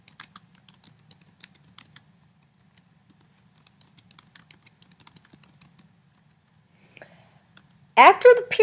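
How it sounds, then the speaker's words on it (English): A sentence is typed on a computer keyboard, with quiet, irregular key clicks running steadily for several seconds before a voice begins speaking at the end. "I will actually type a sentence or two here simply to demonstrate it"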